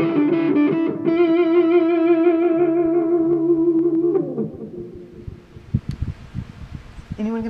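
Electric guitar set to the "woman tone", with the tone knob at zero and the bass rolled off, sustaining a smooth, muffled, heavily effected lead note that slides and fades into scattered quieter picking near the end.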